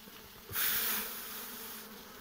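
A dense, steady buzzing of many honeybees in a hive, swelling louder for a moment near the start before settling back to a constant hum.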